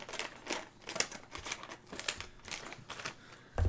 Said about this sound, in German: Wir machen die nächste Tüte 10 auf.